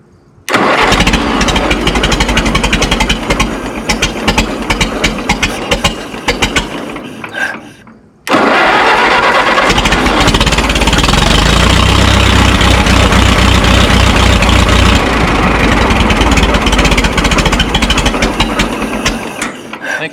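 A Minneapolis Moline Z tractor engine cranks with a ratcheting starter, stalls briefly, then catches and settles into a loud, steady idle with a deep rumbling throb.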